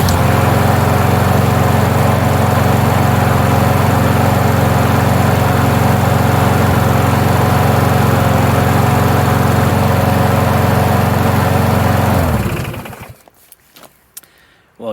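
A free Toro self-propelled lawn mower engine runs loud and steady with a buzzing drone close by, then shuts off abruptly near the end, leaving quiet handling noises.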